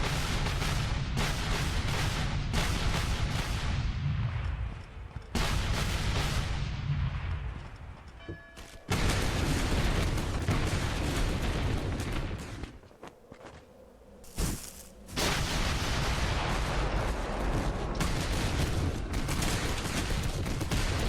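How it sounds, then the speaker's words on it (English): Artillery in the Civil War strategy game Gettysburg: The Tide Turns fires in dense, rolling volleys of booms and crackling musketry, loud and nearly continuous, with a couple of brief lulls. "A lot of artillery going to be firing now."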